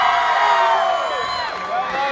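A large crowd at an MMA fight event in Texas cheers and whoops continuously, loud and close, with shouting voices rising and falling.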